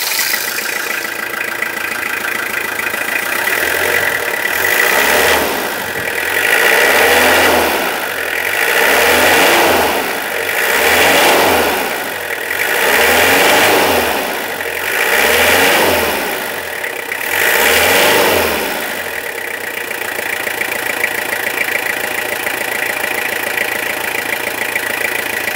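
Toyota Hilux SR pickup engine, heard from underneath after sitting unused for a year, idles steadily and is revved about six times in an even rhythm, each rev swelling and falling back, up close with no talking.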